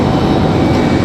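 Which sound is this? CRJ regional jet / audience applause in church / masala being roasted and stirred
CRJ regional jet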